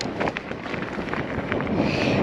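Gusty wind buffets the microphone on open, exposed moorland during a mountain bike ride, a steady rough roar that swells slightly toward the end with no talking.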